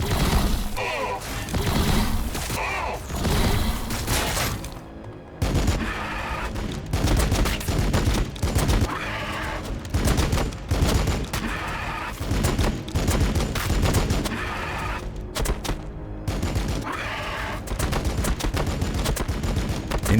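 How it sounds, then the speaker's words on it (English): Inceptors in Warhammer 40,000: Battlesector keep up a long, sustained volley of weapons fire, with dense rapid bursts of shots and crashes stretching across the whole stretch, loud and close, pausing only briefly. "Inceptors can fire for an annoyingly long time"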